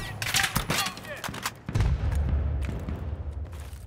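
Gunfire in Battlefield 3, with a burst of rapid shots in the first half giving way to a low rumbling boom, while a voice speaks over the action.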